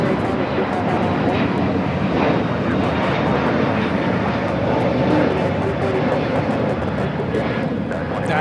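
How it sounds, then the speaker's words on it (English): A United Airlines Airbus A321neo takes off at Los Angeles International Airport, its jet engines producing a loud, continuous roar with broadband rushing noise that stays strong throughout. "That is United Airlines 2487 taking off to Chicago on a brand new A321neo."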